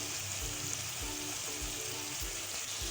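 Mutton with turmeric, salt, crushed red chilli and other spices fries in a pan for chukandar gosht, a steady, close sizzling hiss with faint low thumps, continuing without talk.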